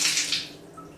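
Hotel room shower at the MGM Grand, water running: a short, soft hiss of spray falling close by that fades within a second, with no voices.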